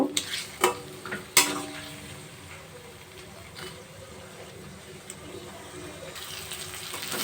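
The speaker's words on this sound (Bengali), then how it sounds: "এবার সমস্ত মশলাগুলো ভালো করে কষিয়ে নেব" Cumin and coriander powder stir-fried with potatoes in a pan for a banana stem ghonto, giving a low sizzle with a few sharp clinks of a spoon against the pan, close by.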